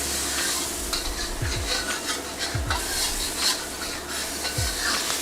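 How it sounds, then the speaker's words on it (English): A wok is deglazed with stock while a utensil scrapes charred bits of beef off the metal, giving close, continuous sizzling with repeated rasping scrapes and a few low knocks. "deglaze our wok here, which is essentially scraping off all of that stuff."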